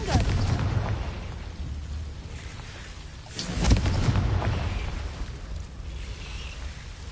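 A Confringo blasting spell explodes in the Hogwarts Legacy video game: a sharp low boom rises from rumbling background noise midway, then fades back into a dull roar.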